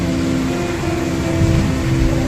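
Steady rain in the Sakura School Simulator video game, a continuous dense hiss close and fairly loud with a low hum underneath, no speech over it.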